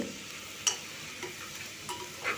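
Onions and whole garlic cloves stirred in hot oil, a faint steady sizzle with a few soft scrapes and taps of a spatula, close and quiet, no talking.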